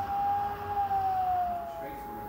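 A single steady warning siren tone, being tested during flooding, wails from a distance, holding a long note that slowly drifts downward against a quiet background.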